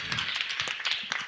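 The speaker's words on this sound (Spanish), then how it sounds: "A Moisés, un aplauso." Children applaud in a short, light burst of scattered hand claps, fairly soft and close, lasting about a second.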